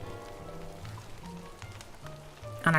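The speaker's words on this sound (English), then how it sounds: "And it just started to rain too." Rain begins falling in the video game Don't Starve Together, a soft steady patter of drops on surfaces over low droning game ambience, faint and even, with a brighter burst right at the end.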